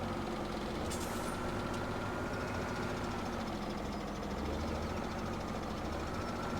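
A tractor engine in the video game Farming Simulator 17 drones steadily at a low, constant idle-like hum, quiet and unbroken, with a brief hiss near the start and no voices.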